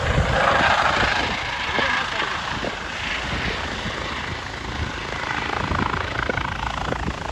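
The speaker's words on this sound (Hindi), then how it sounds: "हेलीकॉप्टर यहाँ पर लैंड होने वाला है" A helicopter's rotor thumps and whines loudly and steadily throughout, close by, with a broad roar of wind and engine noise.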